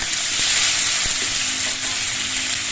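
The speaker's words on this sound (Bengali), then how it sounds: "কিছুক্ষণ নেড়ে চেড়ে নেওয়ার পর আলুগুলো ভাজা হয়ে গেছে" Potatoes and tomatoes fry in a pan with a constant close sizzle, punctuated by a few soft scraping knocks as they are stirred.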